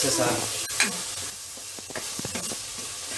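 Spices sizzle and hiss steadily in a hot pan as the base for a spicy fish curry, with a few stirring scrapes and faint voices in the background.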